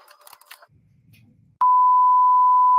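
A voicemail beep on a phone call: a brief muffled murmur and low rumble give way to a loud, steady electronic tone that holds unbroken to the end.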